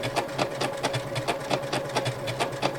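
A sewing machine stitching small quilt circles runs in an even, rapid stitch rhythm with a steady motor hum underneath, close and continuous throughout, no talking.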